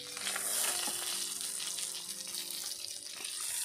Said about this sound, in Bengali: সমস্ত মাছগুলো খুব ভালোভাবে ভেজে নেওয়া হয়ে গেছে